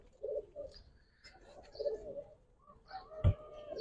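Male Giribaz and khaki pigeons cooing close by in a quiet setting, several soft rolling coos repeating in short bursts with a brief thump near the end.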